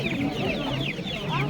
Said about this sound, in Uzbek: Xo'roz.